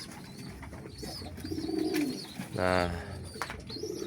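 Domestic pigeons in a crowded loft coo in low, rolling bursts, with one loud nearby coo swelling at the centre amid scattered chirps, while someone talks over them.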